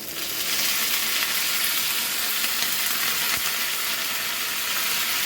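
Curry leaves hitting hot oil for a Goan moringa sambar, giving a loud, steady crackling sizzle that fills the whole stretch with no voices.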